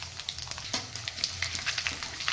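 Bay leaf, dried chillies, cardamom pods and nigella seeds sizzle in hot oil for a Bengali hilsa malaikari, a close, continuous crackle with small pops throughout and no talking.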